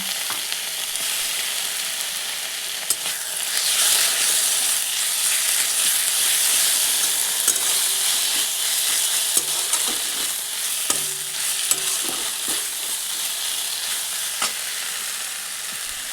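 Onions fry in a pan as ginger-garlic-cumin paste and pasta masala go in for egg pasta, a continuous close sizzle and hiss with scattered spoon scrapes and taps, no talking.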